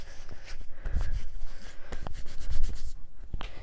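Hands wiped clean with a makeup wipe, a continuous soft rubbing and scrubbing close by, with a few light knocks and no talking.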